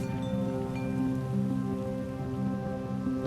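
Steady rain patters down across a Minecraft RLCraft world, a dense hiss that runs evenly throughout with a sustained tonal background layered underneath.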